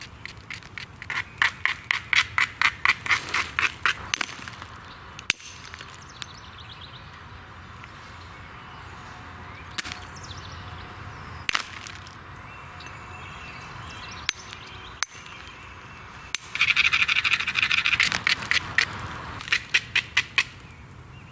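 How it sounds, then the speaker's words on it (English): Flint knapping in a swamp: a coarse stone grinds and scrapes along flint edges in bursts of rapid, clicking strokes, with sharper ticks and quiet pauses between, close and moderately loud. "it's just a coarse piece of stone, and I grind the edges to make it easier to peel those flakes off."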